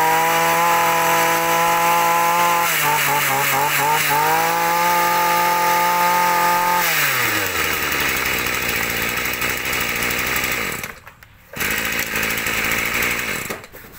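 A Makita 2300 brush cutter with a 23cc engine runs steadily at a high, buzzing idle, then drops in pitch as it slows, cuts out briefly and restarts, close and loud with no talking.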